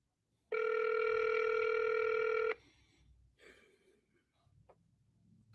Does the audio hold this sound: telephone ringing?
yes